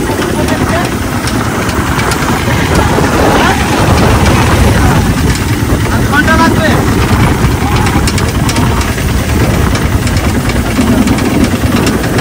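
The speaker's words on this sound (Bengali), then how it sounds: "এত ইঞ্জিন ভ্যানের আওয়াজ তো যে কারণে শোনা যাচ্ছে না" A motorized engine van runs loudly and continuously on a rural road in the Sundarbans area, its steady mid-pitched chugging engine dominating throughout while people talk over it.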